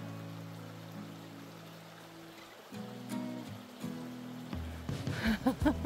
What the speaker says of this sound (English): Look at it rain.